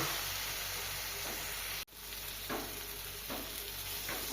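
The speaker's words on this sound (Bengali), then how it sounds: "এবার মশলাটা কষা হয়ে এসেছে, একটু ভালোভাবে কষে নিব।" Ground spice paste with salt and powdered spices being sautéed in a pan for a rohu fish curry, giving a steady close sizzle broken by a few soft stirring scrapes and one brief dropout.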